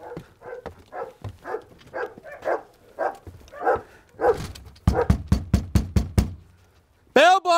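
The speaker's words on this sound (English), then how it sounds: "I'm knocking the front." A fist knocks on a house's front door in a quick run of about eight sharp, evenly spaced raps after a stretch of talking, and a dog barks inside just afterward.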